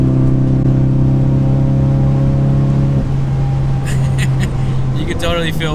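A Ford Focus RS pulling at wide-open throttle on the Autobahn: a loud, droning engine tone that shifts pitch partway through, with voices cutting in near the end.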